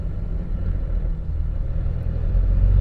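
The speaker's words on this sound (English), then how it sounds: "If I slow down, some of the gear roll over, you might be able to hear it." Low grinding rumble of gear rollover from a truck fitted with an aftermarket South Bend clutch, a steady drivetrain drone that swells slightly toward the end, heard from inside the cab with no talking.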